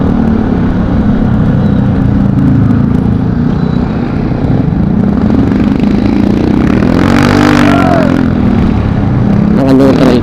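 Motorcycle engine running steadily in neutral after a crash, loud and close with a continuous low idle rumble, some rattling and a brief rise in revs near the end.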